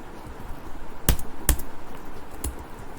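Three sparse, sharp keystrokes tap on a computer keyboard, close and distinct over a low background hum.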